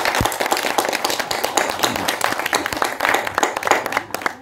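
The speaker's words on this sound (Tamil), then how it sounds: "ஒன்றா கைத்தட்டலாங்க." An audience at a Tamil felicitation ceremony for an honorary doctorate claps together, a dense, steady wash of many hands close and loud, tapering slightly at the end.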